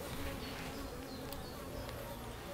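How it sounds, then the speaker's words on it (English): Bees buzz in a steady, dense hum near a bee nest inside a bedroom, a continuous faint drone with no talk over it. "Ooh, but we do have a bee nest over there."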